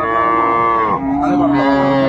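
A dairy cow or calf at Raniganj cattle market in Dinajpur gives a loud, drawn-out moo nearby, pitch dropping midway, then a second bellow follows.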